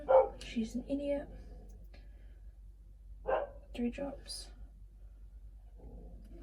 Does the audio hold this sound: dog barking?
yes